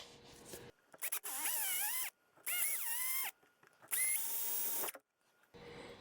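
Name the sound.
drilling a hole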